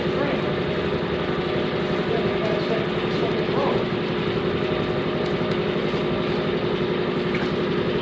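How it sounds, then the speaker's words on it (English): An air compressor running steadily near a Hyundai Sonata, a constant loud mechanical hum and drone with no breaks, with a voice faintly present under it. "I know the compressor running"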